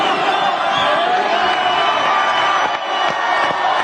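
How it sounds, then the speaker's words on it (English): A large crowd at a political rally roars, screams and cheers continuously, loud and dense, with no break in the noise. "Everybody's screaming right now."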